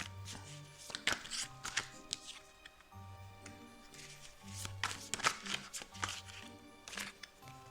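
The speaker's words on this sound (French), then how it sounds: "le temps que je bats les cartes." A deck of cards is shuffled close up in a quiet room, with bursts of riffling and sharp taps and clicks repeating unevenly, fairly faint overall.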